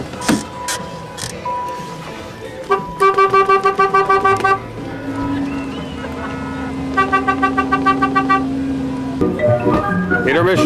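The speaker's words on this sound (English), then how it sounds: "Honk the horn." Car horns honk at a drive-in theater on its final night, sounding in two long runs of rapid repeated toots with a sustained tone between them, fairly loud alongside faint voices.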